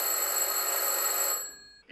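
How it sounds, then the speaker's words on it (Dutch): A telephone bell rings in a home, a bright sustained electronic trill lasting over a second before it cuts off as an automatic answering machine picks up with a click. "U luistert naar de automatische telefoonbeantwoorder van Hanna en Joris Huisman"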